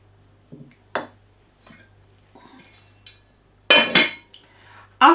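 A metal lid is set on a cooking pot of simmering gizzards, with scattered clinks and clatters of cookware, several sharp metallic knocks and a louder rattling clatter near the end, close and otherwise quiet.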